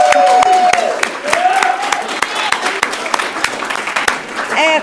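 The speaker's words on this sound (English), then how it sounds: "by way of applause, let them know you're in the room" Audience applause in a school district event room, scattered sharp claps ringing out under a loud voice speaking over them, with a brief whoop near the end.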